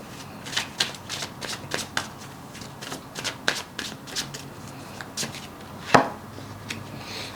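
Tarot cards being shuffled by hand at close range, a series of separate riffling snaps and soft slaps with one sharper snap near the end, no talking over them.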